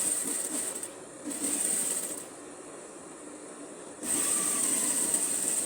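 A sewing machine stitches the fabric of tailored shorts with a steady mechanical whir and a high whine. It runs in stretches and pauses briefly between them, close and moderately loud.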